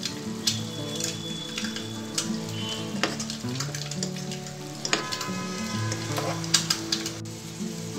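Yogurt mixture and coriander go into hot, sizzling masala for egg dum biryani, with a steady close frying hiss and bursts of crackle and spatter as the mixture is stirred.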